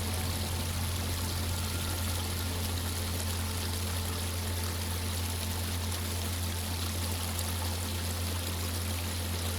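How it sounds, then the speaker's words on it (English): Gentle flowing stream nearby, a steady soft wash of water that holds evenly with no breaks, low and calm with a faint hum beneath it and no voices. "you hear the gentle sound of a nearby stream."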